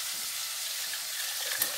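Garlic frying golden in a pan, giving a steady, soft, even sizzle that holds at one level throughout with no voices.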